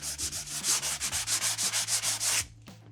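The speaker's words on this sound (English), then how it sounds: "I usually just sand with the flashlight on. Just kind of sanding on the edges," Hand sanding of wall edges after peel-and-stick wallpaper removal, with quick back-and-forth scratchy strokes in a fast, even rhythm of about a dozen passes, close and loud, then stopping abruptly.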